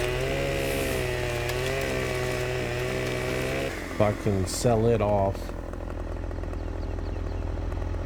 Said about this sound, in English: Get all my chainsaw work done,